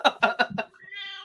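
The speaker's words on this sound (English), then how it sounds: "Your cat just pronounced it better than you did." A pet cat lets out a short, rising meow right after a burst of nearby speech, the tonal call trailing off softly at the end.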